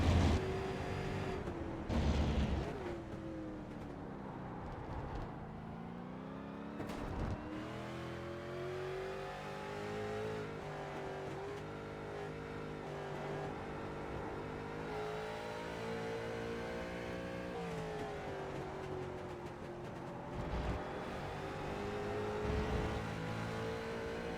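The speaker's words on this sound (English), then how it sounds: "Didn't sound like he downshifted there. Stayed in 4th gear." A race car engine in the iRacing sim at Laguna Seca drones steadily, its pitch rising and dipping through gear changes and corners, fairly quiet and continuous with no voices.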